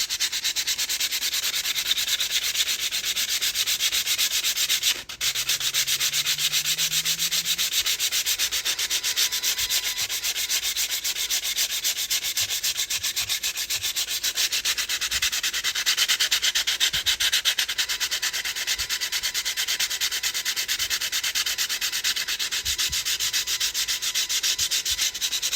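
Continuous close scraping of 120 grit sandpaper worked by hand over a custom wooden body for an SCX24 crawler, steady and even for the whole stretch with no voices.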